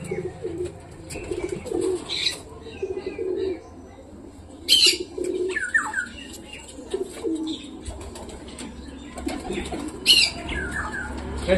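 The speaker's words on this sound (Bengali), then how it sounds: "ওই দেখো ওই পায়রাগুলো লাফালাফি করছে।" Pigeons cooing with bursts of wing flapping now and then, close by, amid light background noise.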